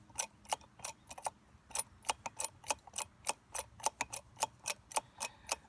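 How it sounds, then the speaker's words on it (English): A jack ratchets a metal T-post out of the ground with a pipe wrench under its nub: rapid, close, evenly spaced metallic clicks, quiet and steady, with no talk. "adjust your jack up to it, and then here we go"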